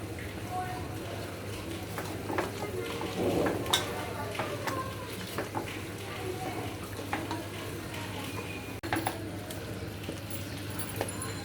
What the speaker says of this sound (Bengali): আমি এখন এটা হাতে মাখিয়ে নেব।